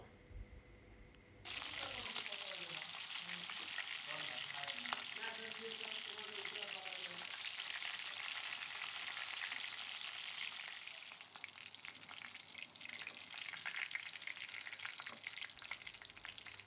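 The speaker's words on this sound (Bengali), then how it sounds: "আমার চিকেন প্রায় ভাজা শেষের দিকে।" Chicken pieces fry in hot oil for a roast chicken dish, giving a close, loud, continuous sizzle and crackle that holds steady throughout with little else audible.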